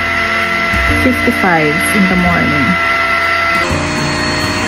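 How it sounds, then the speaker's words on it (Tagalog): A household vacuum cleaner runs steadily, a loud continuous whine and drone filling the whole stretch, while a person talks over it in the foreground. "Yung naririnig nyo, nag-vacuum pa rin"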